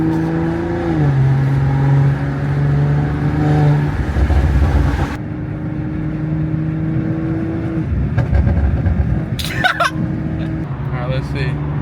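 A BMW 540i with a stage 2 tune drives along, its loud exhaust droning steadily with rising and falling engine tones, while a person talks over it throughout.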